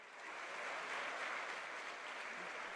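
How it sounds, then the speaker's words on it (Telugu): An audience claps steadily at a government job appointment ceremony where recruits receive their postings. The applause is broad, sustained and moderately distant, with no talk over it. "గట్టిగా చప్పట్లు కొట్టాలి"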